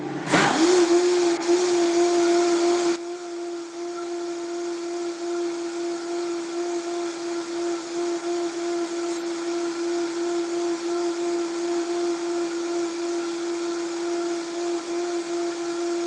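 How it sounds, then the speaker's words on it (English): A blender mixes cacao powder into a drink with a loud, rough surge for the first few seconds, then settles into a steady, even motor whine that runs unbroken to the end. "So I'm going to add my cacao and then blend it again"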